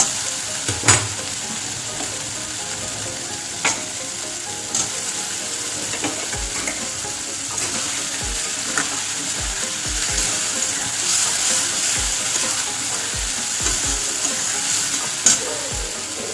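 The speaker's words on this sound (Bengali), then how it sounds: "এবার কোয়াশটা দিয়ে একটু কষে নেব।" Squash stir-fries in a pan with a steady, close sizzle and regular low knocks and scrapes of a spatula every second or so, no voices.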